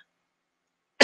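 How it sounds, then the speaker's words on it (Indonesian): A single short, close cough bursts out at the very end after near silence. "mohon maaf, saya batuk"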